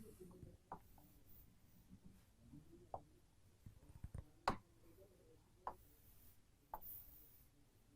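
A pen scratches and taps on a surface while a simple diagram of the abdomen and peritoneum is drawn. The strokes come as quiet, irregular ticks and short scrapes at close range, with no speech.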